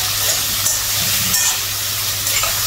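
Fish sizzling in hot oil in a pan in a home kitchen, a loud, continuous, hissing crackle close up with small bursts of spatter and no voices.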